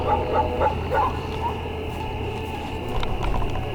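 A dog out in an isolated, empty spot barks a few times in quick succession near the start, the barks fairly distant and mixed into steady outdoor background noise.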